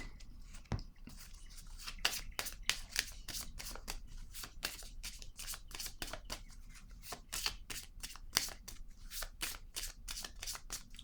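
Playing cards are shuffled and laid down in a long run of rapid, crisp snaps and flicks, close and fairly quiet, with no talking.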